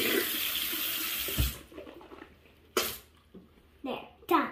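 Water runs from a bathroom tap into a sink with a steady rushing hiss, then cuts off, followed by a voice and brief splashes.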